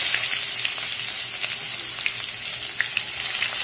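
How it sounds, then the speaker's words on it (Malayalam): Chopped ginger frying in hot oil with popped mustard seeds gives a steady, close, loud sizzle with scattered sharp crackles and pops throughout, with no talking. "നമുക്ക് ആദ്യം നമ്മൾ അരിഞ്ഞു വെച്ചിരിക്കുന്ന ഇഞ്ചി ചേർത്ത് കൊടുക്കാം."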